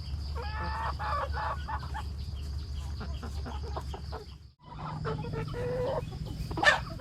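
Egg-laying hens at a buffet-style feeder cluck and call steadily over a low, constant hum, with a brief lull partway through before the clucking resumes close by.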